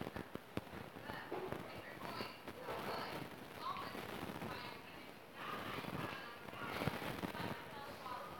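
Gunfire in a video game comes as rapid bursts of shots and crackling reports under constant excited talk from a player.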